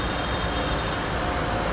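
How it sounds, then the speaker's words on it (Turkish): A train pulling into Kuala Lumpur's Glen Marie station on the line toward KL Central, a steady broadband rumble of wheels and carriage noise that stays loud and even throughout, with no voices. "Buradaki trene binmemiz gerekiyor. Geldi."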